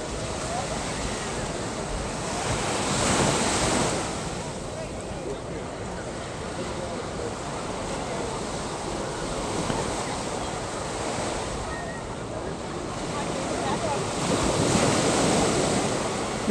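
Ocean surf rolling onto Waikiki Beach in Honolulu, a steady broadband wash with swells rising around the fourth and fifteenth seconds, mixed with light wind buffeting on the microphone and faint background activity.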